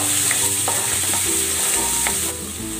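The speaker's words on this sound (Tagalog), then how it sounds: "Lalagay ako ng cooking oil. Igigisa ko na tong bawang." Garlic sautéing in hot cooking oil for lumpia filling, a steady close sizzle and crackle with occasional stirring scrapes, no voices.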